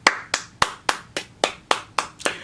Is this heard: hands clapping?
yes